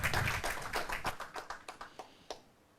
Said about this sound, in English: A round of applause for Abrefi.